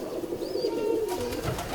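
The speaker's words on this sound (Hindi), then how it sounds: "ये जी फिरोजपुरी कबूतर है।" A Ferozpuri pigeon, likely a male, coos in a soft, low, rolling run that continues steadily and close by, with a faint higher chirp partway through and no voices.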